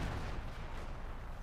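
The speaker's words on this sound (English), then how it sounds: "He moved into his own artillery!" Dense, continuous artillery fire rumbles in the strategy game Company of Heroes 2, with a loud, booming barrage that stays steady throughout.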